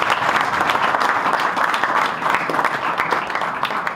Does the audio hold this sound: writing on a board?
no